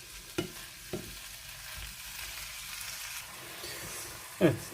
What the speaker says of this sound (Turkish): Yaklaşık yine bir 5 dakika kadar domateslerimizle beraber soteleyeceğiz.